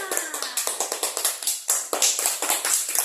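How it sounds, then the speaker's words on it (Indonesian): Classroom clapping from a group of students during a microteaching lesson, a fast, loud run of sharp, uneven claps lasting a few seconds, with a teacher's voice briefly audible over the start. "Tepuk tangan"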